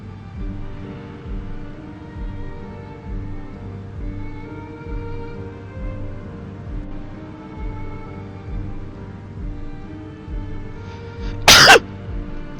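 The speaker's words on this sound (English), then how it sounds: "Excuse me, had to sneeze." A single loud, abrupt human sneeze bursts out near the end, following a long stretch of quiet, steady low background hum.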